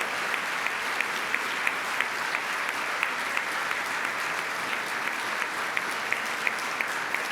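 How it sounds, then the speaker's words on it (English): Sustained applause from an audience at a Rotary club meeting honoring a Jefferson Award for Public Service finalist, a dense, steady wash of many hands with a few sharper individual claps standing out, no talking. "Another round of applause for Tracy Brumfield"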